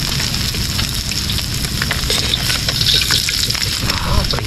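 Steady, crackling sizzle of food frying in a hot pan, continuous and fairly loud, with faint voices murmuring in the background.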